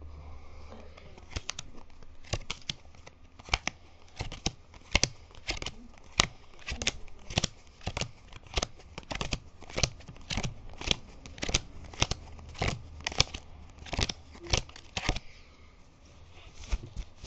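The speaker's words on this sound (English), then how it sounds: "flip each one of the cards until I get to the end" Playing cards flipped over one after another on a tabletop, a long run of crisp, close snaps and flicks in an uneven rhythm, with faint room noise between them.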